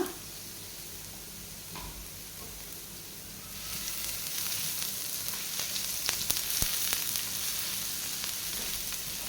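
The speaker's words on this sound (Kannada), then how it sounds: "ಸ್ವಲ್ಪ ಈರುಳ್ಳಿಯನ್ನು ಹಾಕೊಳ್ತಾ ಇದ್ದೇನೆ ಇದನ್ನು ಚೆನ್ನಾಗಿ ಫ್ರೈ ಮಾಡ್ಕೊಳ್ಳೋಣ" Onions hit hot oil in a pan for fish masala fry, the quiet background jumping into a brighter, louder sizzle partway through that then crackles steadily, with no talking.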